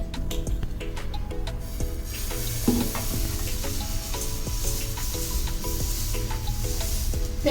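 Dosa batter pizza topped with baby corn, cheese and red chilli sizzles steadily on a pan over low gas heat, a continuous close frying hiss with faint scrapes and clinks, no voices.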